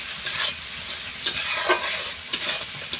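Spices fry in a pan for a rui fish curry, with a loud close sizzle broken by repeated bursts of spatula stirring and scraping.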